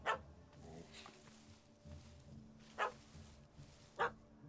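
A dog barks in The Witcher 3, a few sharp, separated barks spaced a second or so apart over quiet game ambience.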